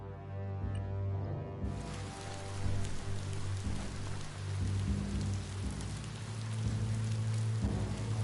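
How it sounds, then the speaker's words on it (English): Steady rain in the video game Biomutant, a dense, even patter on surfaces that swells in after a quieter opening and carries on throughout, layered over low droning ambient music, with no voices. "The rain can't last forever"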